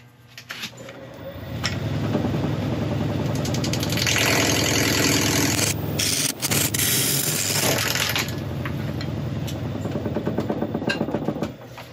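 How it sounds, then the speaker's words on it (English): Carbide tool cutting brownheart wood on a lathe, a loud continuous grinding, scraping roar with a steady motor hum running throughout and a brief dip midway. "I'm gonna quickly have a go with the carbide and see what that does to it"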